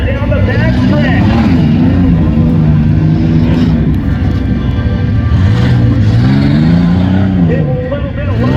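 A tuff truck roars down the back stretch of the Marysville raceway, its loud engine revving and shifting pitch continuously throughout, with an announcer talking over it.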